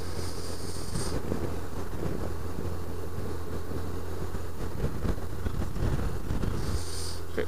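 Wind buffeting a microphone during a motorbike ride in Devon, a constant low roaring rumble with gusty flutter over the engine drone throughout, no voices.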